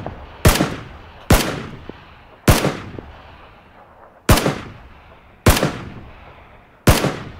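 Gunfire in the PUBG video game: six loud, sharp single shots spaced at fairly even intervals of just over a second, each with a brief decaying tail, with no talking.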